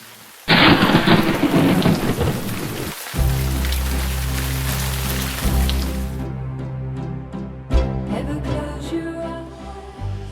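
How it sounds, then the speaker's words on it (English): A heavy downpour of rain roars loudly, then a deep rumble of thunder rolls in and keeps growling low beneath the steady rain, swelling again with a second rumble near the end. "The rain fell, and the floods came, and the winds blew and slammed against that house."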